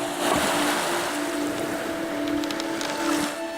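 Waves wash steadily onto a stony lake shore, a continuous broadband surf with soft rolling swells and a light breeze, fairly loud and close, with no voices.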